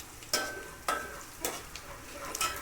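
Chopped onions frying in a pan for a village-style goat mutton curry, stirred in a few sharp scraping strokes over a soft, steady sizzle, close by, with no talking.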